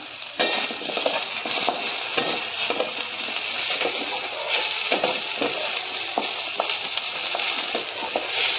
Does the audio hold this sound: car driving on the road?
no